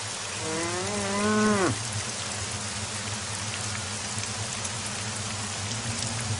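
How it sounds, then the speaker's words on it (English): A cow in the video game Postal 2 lets out one long, loud, wavering moo up close, then it stops abruptly, leaving steady rain-like hiss that continues alone. "Come here, cow"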